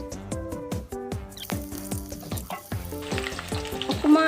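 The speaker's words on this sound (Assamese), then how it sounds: "আলুখিনি ৰঙচুৱাকৈ ভাজি ল'লোঁ।" Potatoes fry in oil until browned, ahead of a turkey meat curry. The crackling sizzle sits close by, with a regular run of scraping, squeaky stirring strokes against the pan.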